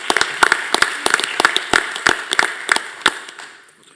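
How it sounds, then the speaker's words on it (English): Applause at a school district board meeting comes from a small group, a handful of distinct, uneven claps that thin out and fade toward the end. "Let's give her a round of applause."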